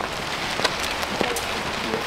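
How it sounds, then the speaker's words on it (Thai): Heavy rain falls in big drops during a flood, a dense steady outdoor patter with a few louder drop hits standing out. "เม็ดใหญ่แล้วนะต้องเม็ดใหญ่แล้ว เม็ดใหญ่แล้วเปียก"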